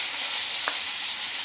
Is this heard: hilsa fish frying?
yes